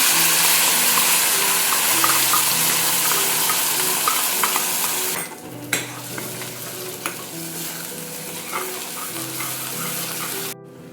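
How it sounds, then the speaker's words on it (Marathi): Cumin seeds, green chilies and a ground paste frying in a home kitchen pan, with a steady close sizzle and repeated scraping stir strokes, briefly quieter midway, with no talking. "सो मी जिरं टाकलेलं आहे, ग्रीन चिली पण टाकते, ही जी पेस्ट बनवली ती टाकते सगळी."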